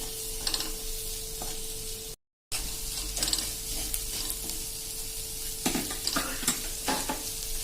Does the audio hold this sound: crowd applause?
no